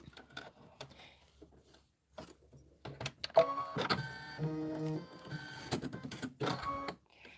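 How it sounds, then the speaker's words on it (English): An embroidery machine stitches the outline of a Kimberbell Hoppin' Down the Bunny Trail mini quilt, running as a close, steady mechanical whir with repeating tonal pulses and intermittent clicks, broken by short pauses and louder bursts. "I'm stitching the outline right there"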